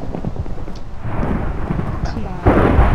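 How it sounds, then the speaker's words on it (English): Heavy thunderstorm rumble with rain, a deep rolling roar that swells and ends in a louder crack-like burst, with faint voices in the background. "I hate thunderstorms."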